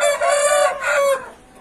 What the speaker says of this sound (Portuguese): esse aqui é um galo grande